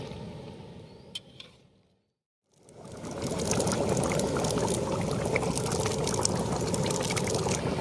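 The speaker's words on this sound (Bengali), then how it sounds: "তার সঙ্গে পটলগুলো ঢেলে দেবো" A few faint clinks, a brief silence, then pointed gourd pieces tip into hot oil in a pan and burst into a loud, continuous sizzle that holds steady, with no talking.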